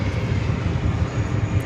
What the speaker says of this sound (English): that American 777-300ER coming in from Madrid, flight 905, but looking like it's lining up for a runway